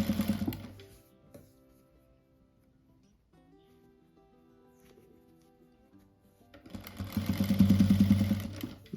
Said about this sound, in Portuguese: E daí passa a costura bem em cima dessa costura do bico ali que a gente já fez.